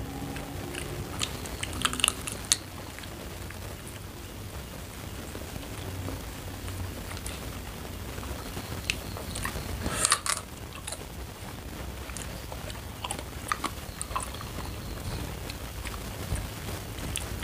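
Someone bites and chews crunchy cactus rujak up close, with faint, irregular crisp crunches repeating over a steady background hiss.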